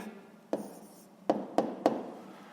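A pen writes out the answer to a sixth-grade math exercise, giving quiet scratching strokes with a few sharp taps as it touches down on the paper, close and faint.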